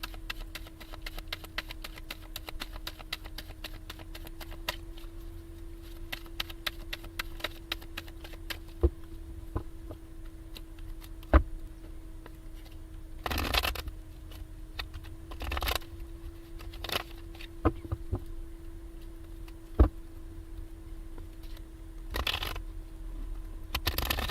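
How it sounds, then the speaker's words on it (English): Tarot cards being shuffled during a live reading, with soft, rapid riffling and tapping that runs steadily throughout, joined by a few sharper knocks and bursts of handling noise and a faint steady hum beneath. "The cards will not shuffle."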